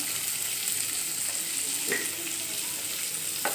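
Chopped tomatoes with a little salt sauté in a hot pan, a continuous even sizzle with a couple of soft stirring knocks, no voices.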